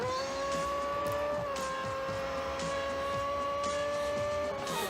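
A race car in the Real Racing 3 mobile game, chasing a 962, hard on the brakes with a sustained engine whine that shifts pitch, under a steady roar and repeated low thumps.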